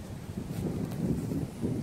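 Low, steady wind rumble buffeting the microphone, a continuous blustery roar with slight swells, no voices.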